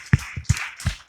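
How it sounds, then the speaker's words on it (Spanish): A church congregation claps in a brief burst, a few distinct sharp claps spaced unevenly across about a second, close and moderately loud. "Denle un aplauso fuerte a Jesús."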